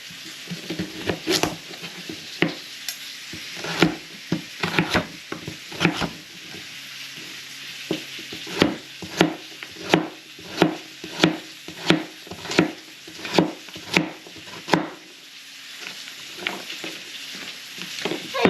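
Rabbit meat frying in a pan, with a continuous sizzle under a run of sharp clattering stirs and scrapes that fall into a fairly regular rhythm through the second half.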